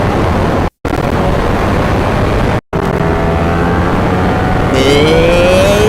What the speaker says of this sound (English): You hear how the engine rises right there?